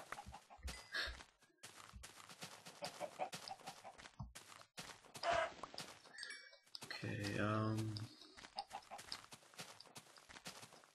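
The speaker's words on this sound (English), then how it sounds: "Why is there so many chickens?" Minecraft chickens cluck in short, scattered bursts among game noises and footsteps, fairly quiet overall, with a voice speaking over parts of it.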